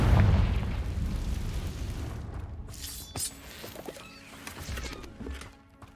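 A Confringo blasting spell detonates in Hogwarts Legacy, a heavy booming explosion that rumbles and decays, followed by scattered smaller crackles and debris pops fading out.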